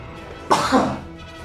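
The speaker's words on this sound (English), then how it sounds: "sneeze stuck in my nose" A single close, abrupt human sneeze, one sharp burst with a short breathy tail, alone against a quiet background.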